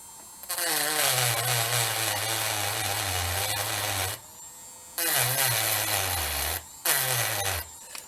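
Battery-powered rotary tool running low on battery buzzes in three loud, close bursts with short silent gaps, its pitch sagging and wavering as it struggles.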